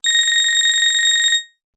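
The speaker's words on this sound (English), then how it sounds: "The alarm rang at 6 a.m." An alarm clock ringing at 6 a.m. with a loud, shrill electronic trill that pulses rapidly and evenly for just over a second before cutting off into silence.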